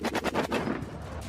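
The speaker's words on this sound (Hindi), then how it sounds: "सरकार के समर्थन वाले लड़ाके विद्रोहियों पर ताबड़तोड़ गोलियां बरसाते नजर आए" Rapid gunfire from fighters in a desert area, a quick burst of roughly six close shots in a rattling rhythm followed by a rough, noisy tail.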